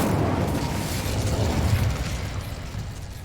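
The Incendio fire spell cast in Hogwarts Legacy, a loud rumbling burst of flame with a low roar that swells and then slowly fades.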